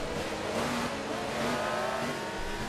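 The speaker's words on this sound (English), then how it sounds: "this Corvette here can plainly be heard amongst this herd of Ferraris" A Corvette running among a pack of Ferrari race cars in the Forza Motorsport 2 racing game, a steady, continuous engine drone with tonal revving bands holding throughout, no talk.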